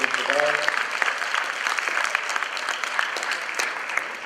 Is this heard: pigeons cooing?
no